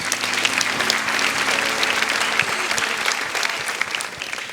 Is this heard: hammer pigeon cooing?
no